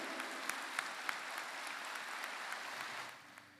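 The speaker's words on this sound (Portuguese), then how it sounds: "Merece a vida toda de aplausos." Applause for a tribute on a Brazilian television news programme, a steady wash of clapping from a crowd heard at moderate distance. The clapping stays even for about three seconds, then fades out.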